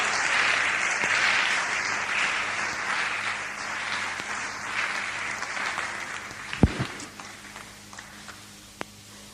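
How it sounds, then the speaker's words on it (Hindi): Loud, sustained audience applause fills a hall at an RCM company awards gathering as achievers are called to the stage, with a few sharp knocks near the end and announcer speech around it. "प्लीज एक बार जोरदार तालियां"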